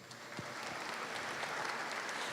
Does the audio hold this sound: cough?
no